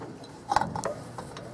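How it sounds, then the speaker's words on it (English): A wrench, likely a ratchet, tightens bolts during timing chain work on a Chevy 350 engine, giving a brief cluster of sharp metallic clicks and ratcheting ticks near the middle over quiet room background. "You can use a torque wrench here, but most of the time, just after it stops and about a quarter or half past stop"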